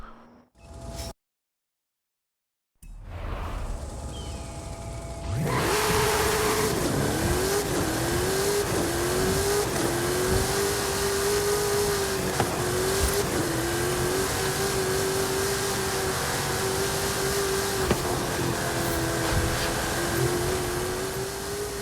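Race cars from a Funko racing video game, including a Nissan GT-R, roar steadily after a brief quiet start, engines revving and shifting with rising and falling pitch, occasional tire squeal, loud and continuous with no talking.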